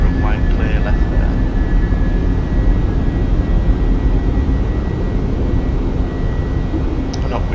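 Simulated Fenix A320 airliner taking off in Microsoft Flight Simulator 2020, a steady loud jet engine roar with broad rumble filling the whole stretch, a voice talking over it.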